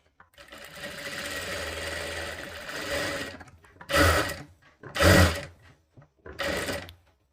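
A sewing machine stitches the cups onto a katori blouse, running in one long steady burst and then three short loud bursts separated by pauses, close and alone.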